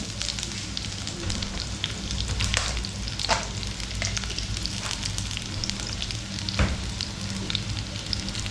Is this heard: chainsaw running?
no